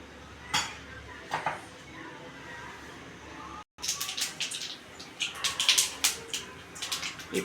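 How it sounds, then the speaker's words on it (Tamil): Sharp irregular pops and crackles of mustard seeds spattering in hot oil, scattered loosely at first then coming in dense bursts close by. "இப்போ கடுகு வெடிக்க ஆரம்பிச்சுடுத்து"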